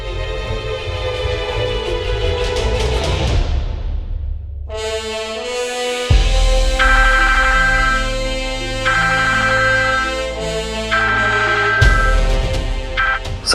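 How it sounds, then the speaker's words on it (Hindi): A phone ringtone plays a repeating electronic melody, loud and close, in a late-night scene from a Hindi TV drama, with the tune restarting several times and no talk over it. "सत्या जी, प्लीज फोन उठाओ"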